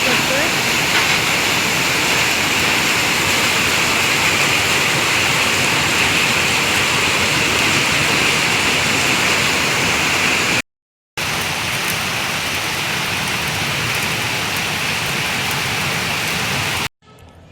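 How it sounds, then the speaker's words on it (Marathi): Heavy rain pours steadily at four in the afternoon, a loud, dense and continuous wash of falling water with no talk, cut by two brief silent gaps. "इथे खूप पाऊस पडतो मला दाखवते मी"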